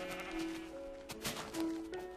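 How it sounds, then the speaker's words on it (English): Sheep bleat in Minecraft, several wavering tonal calls rising and falling over a couple of seconds, fairly quiet, with a few soft clicks between them. "There's a lot of sheep in there."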